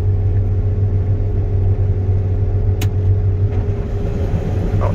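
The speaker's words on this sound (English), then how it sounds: "I totally engaged my header at high RPM and I hate doing that" A combine harvester runs with its header engaged at high RPM, a loud, steady mechanical drone and rumble with a sustained hum and a brief metallic tick partway through.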